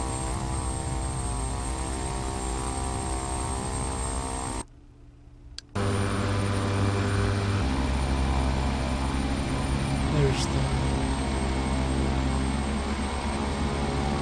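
Steady propeller-plane engine drone in Flight Simulator X, loud and continuous, with a brief drop to near silence around the middle before the engine hum resumes at full level.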